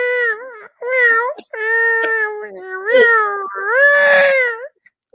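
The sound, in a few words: person imitating cat meowing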